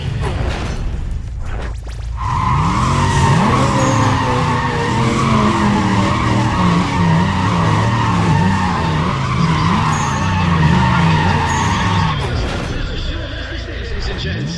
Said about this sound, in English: Just listen to those engines standing.